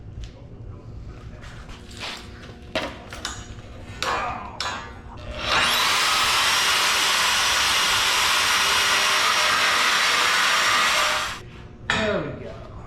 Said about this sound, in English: I'm gonna get a couple pieces cut real quick.